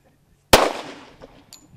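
A single sharp gunshot cracks out close by, then a short echoing decay trails away into quiet.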